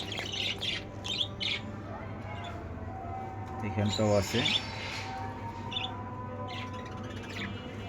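Pet lovebirds chirp and squawk in short, bright bursts beneath a person talking nearby, over a steady low background hum.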